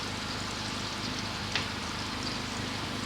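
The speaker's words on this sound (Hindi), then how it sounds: "हल्का तो सौते करेंगे अपने लहसुन को।" Crushed garlic sizzles in melted butter in a pan, a steady close hiss with one brief crackle partway through and no voices.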